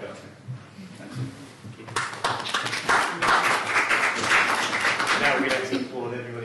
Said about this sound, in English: Now we'd like to applaud everybody who speaks